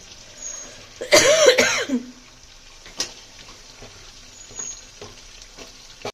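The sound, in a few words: potatoes frying in oil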